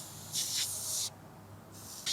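Meguiar's bug and tar remover is sprayed onto a car's paint in two close hissing bursts, a longer one followed by a shorter one, with quiet between them.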